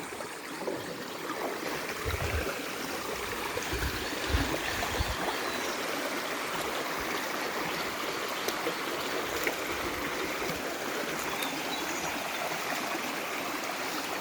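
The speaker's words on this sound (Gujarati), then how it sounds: "ઝરણા વહે ભાઈ." A forest stream in the Gir jungle flows steadily, a continuous close rush and gurgle of water over rocks, with no talk.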